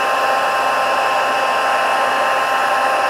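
A heat tool blowing steadily to melt gold embossing powder for paper crafting, a constant close hot-air whoosh and hum with no talking.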